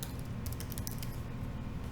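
Rapid clicking keystrokes on a computer keyboard, a quick irregular burst of taps at close range, with no one speaking.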